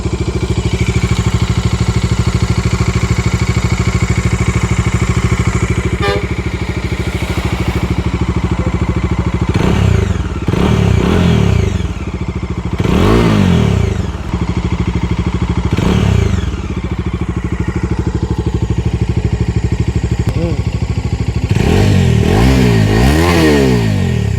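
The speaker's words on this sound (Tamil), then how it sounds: "வண்டியோட எக்ஸாஸ்ட்டை கேட்டுருவோம்" A Bajaj Dominar 250 BS6 (2022) motorcycle engine idles steadily with a low rumble through its exhaust, broken by several sharp throttle blips that rev up and drop back, loud and close.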